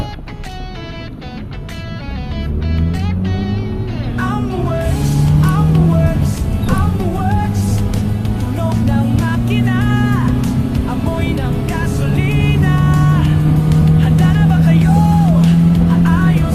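A Mitsubishi Lancer with a 4G13 engine that is noisy, hard to start and has a broken engine mount drives off on a test drive, its engine rising through several gears under steady talking in the cabin.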